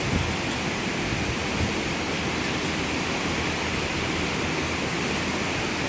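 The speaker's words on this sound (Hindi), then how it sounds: "गाइस बहुत सुंदर बारिश हो रही है।" Rain falls steadily in Jakarta, Indonesia, a dense, even hiss of downpour that stays loud and unbroken throughout, with no voices.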